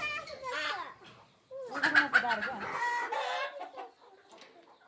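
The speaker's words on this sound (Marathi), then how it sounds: "ही कोंबड्या इतक्या चांगल्या आहेत ना गावरान कोंबड्या" Desi village hens on an open poultry farm cluck close by in bursts of short, bright calls, with a brief pause before a louder flurry of clucking and squawks.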